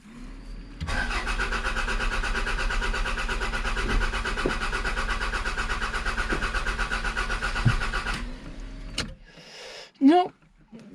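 A 1991 Toyota Celica GT engine cranks steadily for about eight seconds without catching, a loud rhythmic starter churn that stops abruptly, followed by a brief burst of voice.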